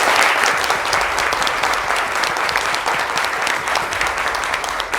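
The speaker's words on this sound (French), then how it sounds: "Je pense que ça s'applaudit." An audience in a French television show studio applauds after poll results are announced, a loud, sustained crowd clapping that stays steady throughout.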